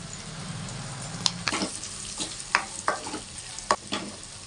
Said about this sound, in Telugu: మెత్తలు వేస్తున్నాను ఫ్రెండ్స్. శుభ్రంగా వేగనిద్దాం.